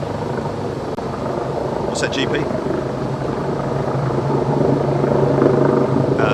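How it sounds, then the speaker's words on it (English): A Wildcat helicopter and two large Merlin troop-carrying helicopters fly past during the Queen's Platinum Jubilee flypast, a steady rotor drone that builds gradually in loudness, with a person speaking briefly over it. "that will be Wildcat helicopter with 2 Merlin helicopters, big, juicy, troop-carrying helicopters"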